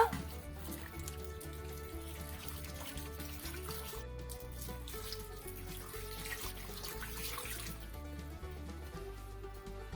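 Water runs and pours from a tap into a low cooking pot holding orange slices for candied orange, a soft steady trickle that sits quietly beneath background music with no talking.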